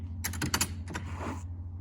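A door creaks open in a series of short squeaky strains, fairly close, over a steady low hum in a quiet room.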